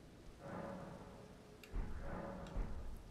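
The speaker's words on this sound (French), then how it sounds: "Et en plus il pleut" Steady rain in the video game Elden Ring, a soft, quiet wash of falling water that holds evenly throughout, with a faint tonal hum beneath and two slightly louder swells near the end.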